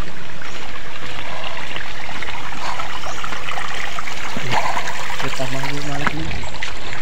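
Water of a spring-fed stream near its source flowing steadily, a loud continuous close rushing and trickling, with a voice briefly heard over it.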